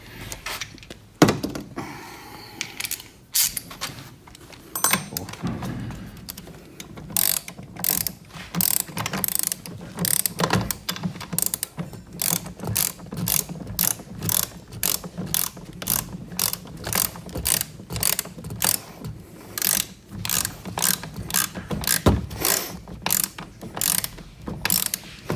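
An Allen wrench on a ratchet tightens a nut on an electric ATV, producing a long run of rapid, even clicks close by, with occasional clunks and no talk.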